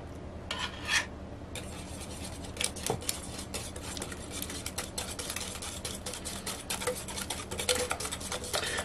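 A utensil scraping and stirring orange juice with orange zest in a bowl, giving a continuous rasping, rubbing texture with irregular clinks and scrapes, close and fairly quiet.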